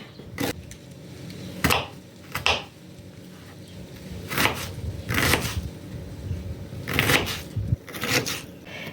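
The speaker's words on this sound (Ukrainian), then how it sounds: "беремо 1 кг цибулі і кришимо невеликими кубиками" A knife chops onion into small cubes for a borscht base, giving irregular knocks against a board in loose bursts, fairly close and alone with no talking.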